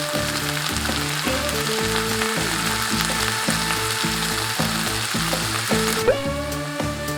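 Sliced onions stir-frying with soy sauce make a steady, dense sizzle throughout, close and even, set against a rhythmic tonal background pattern, with a slight stir clatter near the end.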